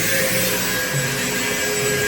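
Steady, continuous abrasive whirring of a power sander on a 1987 Peterbilt 379 truck under restoration, loud and close, droning without a break and with no talking.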